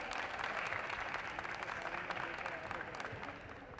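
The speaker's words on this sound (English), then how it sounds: "let's give a big hand to Team Cypher" Enthusiastic applause at a Robocon robotics competition event for a college team: a dense, steady wash of clapping from a crowd, sustained for several seconds with some voices mixed in.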